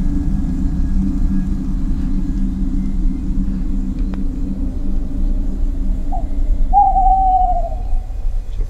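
A low, steady rumbling ambience from the video game Veneficium, with an owl's short hoot breaking in briefly near the end.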